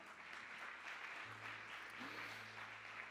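A church congregation applauds in a steady, moderately distant wash of clapping, with a low hum starting partway through.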